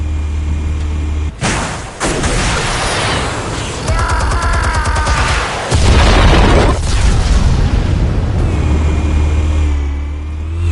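An explosion in a Batman film erupts as a sustained, loud, rumbling blast with several heavy booms and popping bursts layered over a deep low roar.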